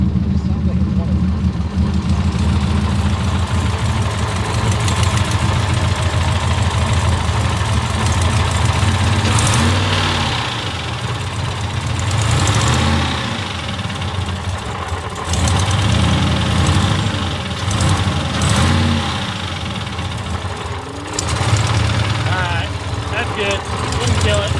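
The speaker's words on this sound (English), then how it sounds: "Listen to me rev it up just a little bit." A turbocharged rally truck engine at close range, idling with a rough, knocking tone and swelling through several brief revs, leaking oil from the valve cover, with people talking over it.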